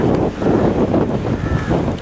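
Strong cyclone winds from Cyclone Yaas lash the Odisha coast near Paradip, a continuous loud buffeting roar of wind hitting the microphone with surging gusts throughout.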